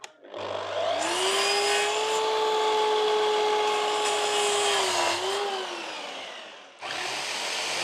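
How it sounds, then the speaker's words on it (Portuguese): A miter saw slices through a triangular wooden stair step, the motor spinning up into a loud, sustained whining cut that slowly winds down, followed by the saw starting again near the end. "Agora vamos usar a serra esquadrilha. Vou tirar esse ângulo"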